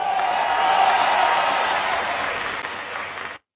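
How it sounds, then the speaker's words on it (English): A beach crowd bursts into dense, steady applause after a rescue, loud and close, then the clapping cuts off abruptly after about three and a half seconds. "The thunderous applause blended harmoniously with the soothing sound of the enchanted waves"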